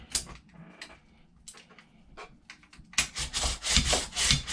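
The slide of a Freedom Ordnance FX-9 pistol-caliber carbine is cycled by hand, giving rough, gritty scraping strokes, several of them, soft at first and then louder and rasping in the last seconds.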